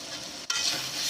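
Prawn malai curry sizzles steadily in a pan while being stirred, with a brief dip in the crackle midway before it resumes, close and continuous with no talking.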